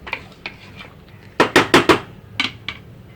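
A pressure cooker lid clanks shut in a home kitchen: a few light metallic taps, then a quick burst of four sharp clatters and two softer knocks, close and loud.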